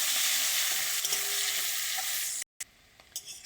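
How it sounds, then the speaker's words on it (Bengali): Onions with black cumin frying in oil give a continuous close sizzle with stirring scrapes, broken by a short silent gap and then a softer frying hiss. "আর পেঁয়াজটা একটু লাল লাল করে ভেজে নিই"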